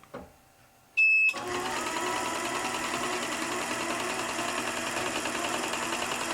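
A sewing machine stitches in the ditch along the seams of a quilt, running steadily and fairly loud after a short quiet start with a brief high beep.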